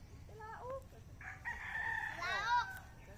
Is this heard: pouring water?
no